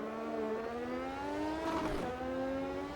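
A McLaren MP4/4 Formula One car in a VR racing game pulls away in first gear, its engine note rising steadily in a smooth harmonic whine with a brief surge and dip midway, alone and fairly loud.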